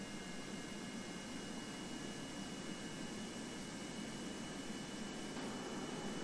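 A faint, steady jet-like roar from an aircraft taking off in Kerbal Space Program, an even broadband hiss with a thin whine that holds level throughout.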